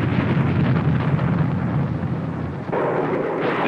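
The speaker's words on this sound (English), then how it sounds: "The 250-pound warhead exploded on contact 25 feet from the aiming point." A 250-pound Bullpup missile warhead detonates against a concrete bunker in a 1963 weapons test, heard as a sustained, rumbling roar with a sudden brighter burst near the end, loud and noisy.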